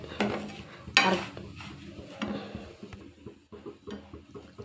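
Semolina roasting in ghee in a large, thick-bottomed pot, stirred continuously: repeated close scraping and stirring strokes over a soft sizzle, with occasional louder clinks of the spoon against the pot.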